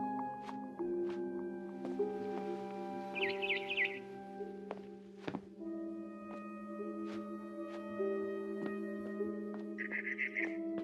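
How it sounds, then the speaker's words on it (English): Brief trilled chirps of a barn swallow in the video game What Remains of Edith Finch, in two short bursts over a steady humming tonal background with occasional clicks, fairly quiet. "Then I heard chirping outside my window."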